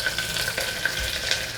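Seasonings fry in a pan for bagara rice while a spoon stirs them, a close crackling sizzle broken by light scraping strokes, with no one speaking.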